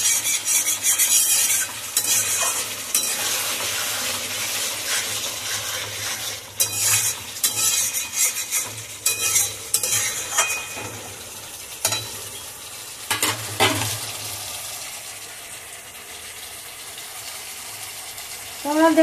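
Meat being sautéed in a pan for kosha, a steady close sizzle with repeated scraping and stirring strokes, occasional louder clatters of utensil against the pan throughout.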